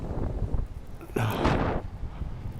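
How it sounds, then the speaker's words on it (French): Strong wind buffeting a paraglider pilot in flight over Champeaux among many other wings, a steady close roar with a louder gust surging in the middle. "le vent il est limite fort"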